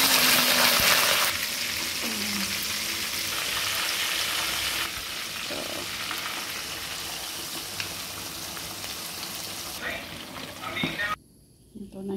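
Whole fermented fish (buro) frying in a pan, with a loud continuous sizzle and crackle close up, a few stirring scrapes, and the hiss dropping away sharply near the end.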